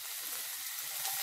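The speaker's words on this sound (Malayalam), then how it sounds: "ഇതിലേക്ക് ഇഞ്ചി ചെറുതായി അരിഞ്ഞത്, വെളുത്തുള്ളി പൊടിയായി അരിഞ്ഞത് ഒക്കെ ഒന്ന് വഴറ്റിയാൽ മതി." Finely chopped ginger and garlic sautéing in hot oil, a faint, continuous sizzling hiss with a soft, even texture and no voices.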